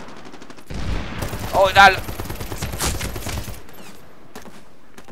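Dense gunfire in Medal of Honor Warfighter multiplayer, a loud burst of overlapping shots and explosions lasting about three seconds before fading to scattered distant pops, with a short spoken exclamation over it.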